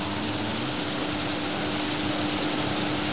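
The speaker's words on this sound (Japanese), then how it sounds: "で、これが風切り音なんです。" A small spinning wind turbine model driven by an electric fan gives a steady, loud whirring whoosh with a constant mechanical hum and a sustained tone throughout.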